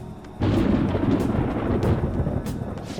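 Rolling thunder in the Persona 5 Royal video game, a deep rumble that swells suddenly and stays loud and continuous, hinting at an oncoming rainstorm.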